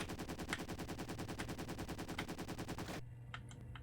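A machine gun in an Amiga first-person shooter fires a rapid, steady burst of evenly spaced shots for about three seconds, loud and close, then stops, leaving a faint low hum.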